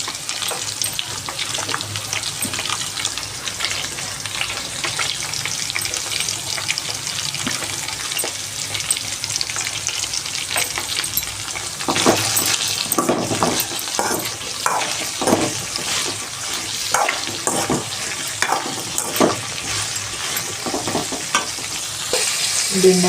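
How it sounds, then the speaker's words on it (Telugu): Salted okra (bhindi) frying in a pan gives a continuous close sizzle with busy crackle and the odd stirring scrape, holding steady the whole time with no voices. "బాగా దీన్ని బాగా ఫ్రై కావాలి బెండకాయని."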